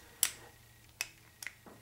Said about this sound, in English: You hear that clicking?